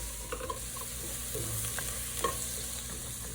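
Vegetables for split pea soup sauté in a pot with a soft continuous sizzle, while a spoon stirs through them with faint scraping and light taps, quiet and close.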